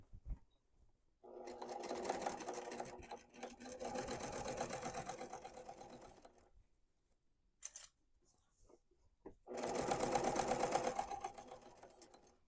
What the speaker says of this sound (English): you're just going to sew down the side of your bag